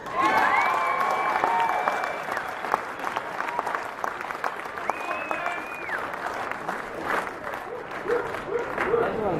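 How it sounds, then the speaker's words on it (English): Steady applause from a crowd at a rugby league players' presentation in Rundle Mall, Adelaide, fills the whole stretch, with scattered cheers and a few whistles rising over the clapping. "give him a round of applause too"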